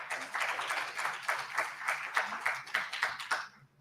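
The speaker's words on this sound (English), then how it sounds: "Simone Rucker, let's give a round of applause for her" An audience at a law and education symposium claps in a steady round of applause that carries on for a few seconds and then stops.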